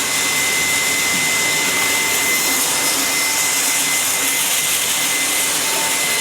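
A 15 kilo Loring coffee roaster runs at full production while a 12 kilo batch of specialty coffee is lifted, giving a loud, steady, broadband roar and whoosh with a faint high whine, continuous throughout and without talk.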